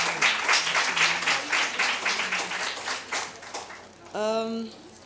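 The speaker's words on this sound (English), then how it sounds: "A big round of applause for them." Broadband clapping from a crowd at a panel discussion fills the first four seconds, fading out before a brief tonal sweep near the end.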